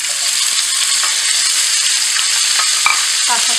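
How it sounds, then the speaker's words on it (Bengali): Cauliflower florets frying in hot oil in a pan for a Bengali koi fish and cauliflower curry, giving a steady loud sizzle with brief stirring scrapes near the end. "তো আমি যার জন্য দেখুন ফুলকপিটা দিচ্ছি, তাহলে গায়ে পড়বে না"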